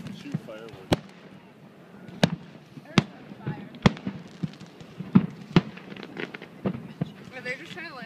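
Canada Day fireworks bursting outdoors in a run of sharp, loud explosions spaced every second or so, with crackling in between and people talking and reacting throughout.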